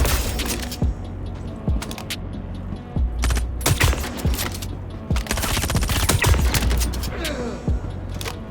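Scalpel sniper rifle in the Star Citizen video game firing inside a bunker: repeated sharp, loud shots in quick bursts with mechanical clatter between them, close up.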